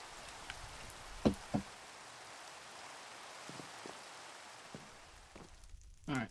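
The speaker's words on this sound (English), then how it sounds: "Sleep, get rid of this rain." Rain falls in a Minecraft modpack world, a soft, faint, even hiss of game rainfall running throughout, broken by a few isolated clicks and knocks from game actions, with no talking.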